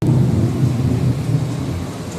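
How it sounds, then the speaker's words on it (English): A simulated thunderstorm inside Epcot's The Land ride, with a steady, loud wash of rain and deep thunder rumbling continuously throughout. "lightning and raining."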